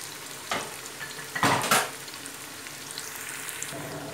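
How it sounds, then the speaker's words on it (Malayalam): Chopped onions fry in a pan for pressure cooker chicken biryani. A steady sizzle runs throughout, close and fairly loud, with bursts of stirring and scraping from a utensil near the start and middle. No voices. "നമ്മുടെ സവാള നല്ല ഫ്രൈ ആയി വന്നിട്ടുണ്ട്"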